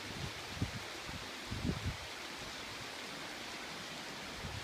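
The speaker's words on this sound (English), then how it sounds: "here's a waterfall." A waterfall beside the Lochsa River in Idaho gives a steady, broad rushing hiss, heard from a moderate distance, with a few low thumps of wind or handling noise and no talking.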